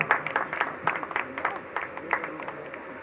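Applause from the audience welcoming Bhagat ji at a bhajan gathering at Katesara Dham, a fairly close burst of scattered clapping over three seconds with a voice talking over it.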